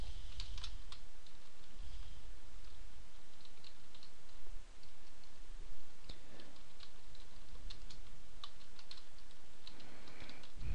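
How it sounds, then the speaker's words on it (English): Steady, fast typing on a computer keyboard, a continuous close patter of key clicks with a brief pause midway and no talking. "So I'm just gonna type this out real quick."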